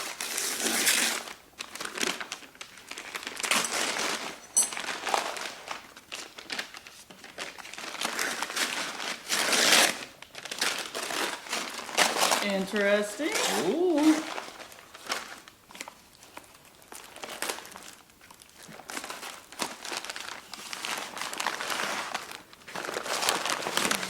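Butcher paper is unwrapped from a smoked ham, making close crinkling and rustling in irregular bursts across a long stretch, with brief exclamations from people nearby.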